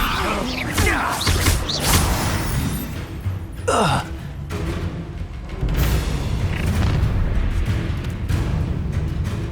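Magic spells are cast in the video game Hogwarts Legacy: a dense run of whooshing bursts, booming thumps and sweeping swishes over a busy battle background, with short vocal gasps mixed in.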